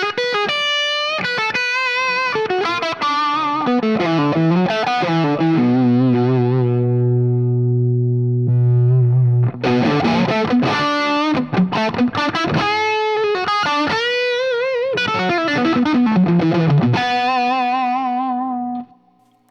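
Electric guitar through a Tone King Imperial preamp and Marshall JMP tube amp, slightly overdriven, playing chords and melodic lines with a long sustained low note in the middle; loud and close, no talking.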